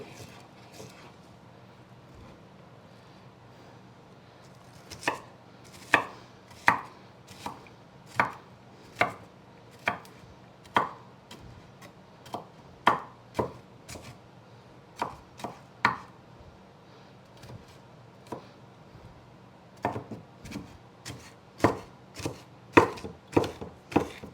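Knife chopping onion on a cutting board for turkey chili, a series of sharp, distinct cuts in an irregular rhythm, quiet and close, with long pauses between bursts.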